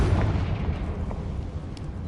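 A Confringo fire spell blast in the Hogwarts Legacy video game, heard as a deep, rumbling explosion with a dense low-end roar that stays loud and sustained for about two seconds, with no voices.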